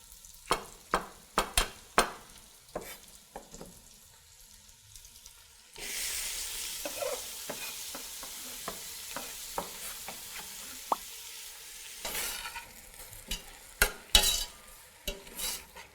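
Mushrooms and mirepoix sautéing in a pan, stirred with a spoon: repeated scraping strokes over a soft sizzle that grows louder partway through, with no talk.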